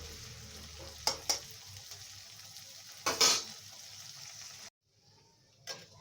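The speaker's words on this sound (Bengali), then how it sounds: "এটাকে ভালো করে ভেজে নেব।" Dried fish fries in a pan with a soft sizzle, broken by sharp clattering stirs and scrapes of a utensil, followed by a brief pause and a final clink.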